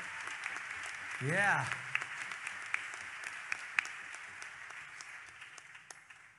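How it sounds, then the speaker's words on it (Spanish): An audience at a tribute show claps for drummer Rafa, a fairly faint, scattered patter of hands in a large room, while a man calls out over it and a brief sung vocal swells up early on. "quiero pedir un fuerte aplauso para Rafa en la batería"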